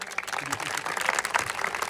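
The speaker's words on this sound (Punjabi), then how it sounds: "ਜ਼ੋਰਦਾਰ ਸਲੂਟ ਮਾਰੋ ਤਾੜੀਆਂ ਮਾਰ ਕੇ ਇਹਨਾਂ ਨੂੰ" An audience claps for a society's founder at an award ceremony, giving a brief burst of dense, steady applause from a crowd nearby.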